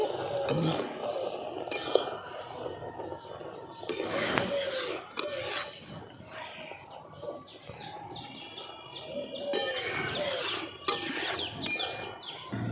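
Fried spices being mixed by hand into shredded raw mango pickle in a bowl give soft, uneven rubbing and rasping scrapes in bursts, fairly quiet, with faint bird chirps in the background.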